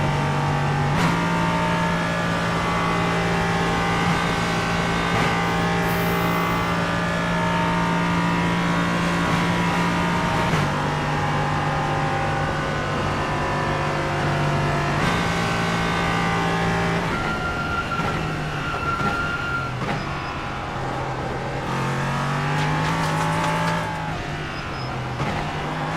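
Loud, sustained race car engines in the iRacing video game drone and shift pitch through gear changes, a continuous high-revving roar with no pauses or voices.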